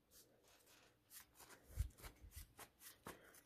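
Playing cards riffled and shuffled in a few quick bursts, soft papery flutters with light taps, fairly close and quiet.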